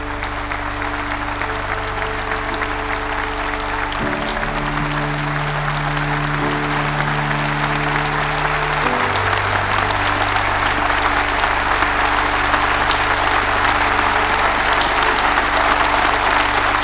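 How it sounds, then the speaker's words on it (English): Sustained applause for the 2020 School of Medicine graduates at an RCSI conferring ceremony, a dense, even wash of crowd clapping lasting throughout, layered over steady sustained low musical tones that shift pitch a couple of times. "join me in offering a round of applause to the 2020 School of Medicine graduates"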